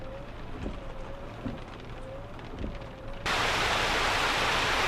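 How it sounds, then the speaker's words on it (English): Rain in the truck-driving game Euro Truck Simulator 2, a faint patter at first that abruptly jumps to a loud, steady, dense hiss of downpour. "Does that rain sound different? Now you can hear it."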